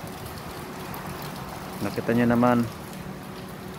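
Steady heavy rain with hail hisses continuously throughout in Riyadh, with a person speaking briefly over it midway.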